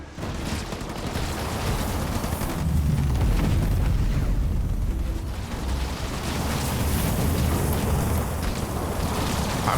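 Burning structures exploding and collapsing in the real-time strategy game Halo Wars 2 during a pro league match, a loud continuous rumbling roar of blasts and crackling debris with no clear gaps.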